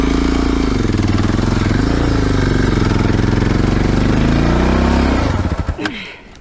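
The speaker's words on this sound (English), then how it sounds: "Engine on." Engine of a vehicle stuck on a muddy slope runs loud and close with a steady, throbbing rumble, then cuts off abruptly near the end, followed by a brief clatter.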